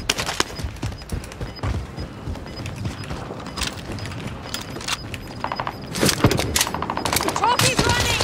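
Rapid bursts of automatic gunfire crackle in the Call of Duty Warzone Pacific video game, repeated volleys near and far with clattering shots, while players talk over the fighting.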